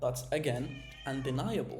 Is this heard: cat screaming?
yes